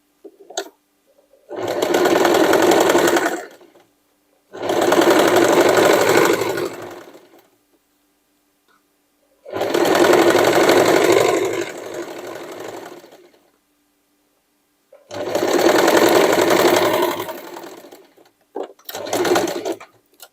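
Sewing machine stitching a denim hoodie made from old jeans, loud whirring runs of two to three seconds, five bursts in all separated by silent pauses, close to the microphone with no talk.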